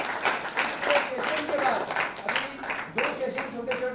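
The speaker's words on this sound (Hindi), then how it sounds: "तालियों से उनका भी अभिवादन करें" Audience applause welcoming a family at a Jain religious gathering, a short burst of moderate clapping from a seated crowd with a voice speaking over it.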